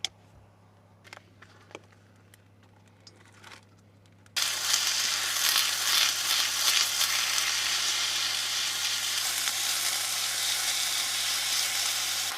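Shaved ribeye steak hits a hot pan after a few seconds of quiet clinks, then sizzles loudly and steadily, crackling and popping up close with no voices.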